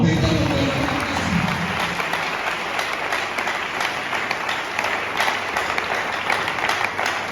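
A crowd applauding steadily, a dense wash of many hands clapping that holds at an even level throughout, loud and close with no break.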